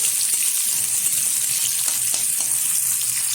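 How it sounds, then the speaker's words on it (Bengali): Sliced onion, garlic cloves and green chillies fry in hot oil with a steady, close sizzle that holds evenly throughout. "এবার একটু ভেজে নেবো"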